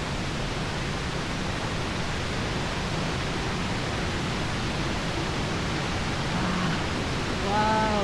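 Iglibog Falls in Igbaras, Iloilo, gives off a steady, dense rushing roar that stays constant and fairly loud throughout.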